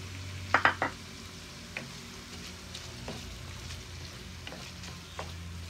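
Shrimp and chicken sautéing in a pan, with a few sharp clattering stirs at first, then a low continuous sizzle broken by occasional lighter scrapes.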